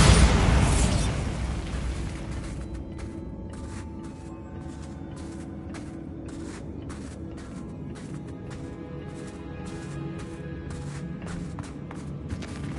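A Bombarda blasting spell goes off in a Harry Potter video game: one loud burst up front that fades into a sustained rumbling tail, with repeated faint clicks and thuds of game ambience afterward.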